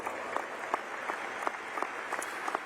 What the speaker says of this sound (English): Please give our retiring staff a round of applause.